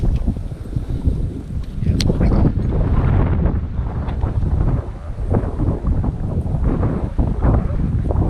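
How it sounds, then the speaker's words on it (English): Strong gusts during a windstorm on a bass fishing outing batter the microphone with loud, rough rumbling that swells and eases continuously, close and with no talking. "even though it's windy as all get out"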